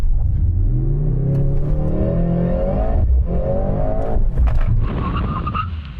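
Mercedes-AMG C63 with four-wheel drive and an electric motor accelerates hard from a standstill, a loud, steady engine roar rising in pitch through the gears, with a brief shift gap before pulling on.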